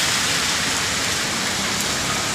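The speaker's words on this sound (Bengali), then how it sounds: "প্রচণ্ড পরিমাণে বৃষ্টি হচ্ছে।" Heavy rain pours down steadily, a dense, loud, continuous hiss of drops with no pauses and no voices.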